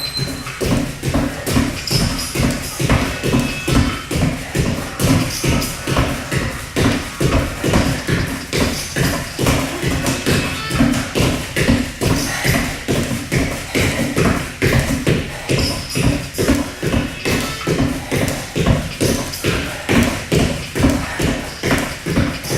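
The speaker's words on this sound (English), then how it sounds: "After all those toe taps, I'm making you guys do squats" Rapid toe taps from a workout exercise land as quick, even footfalls on the floor, a steady rhythmic tapping and thumping that continues close and loud for the whole stretch without talk.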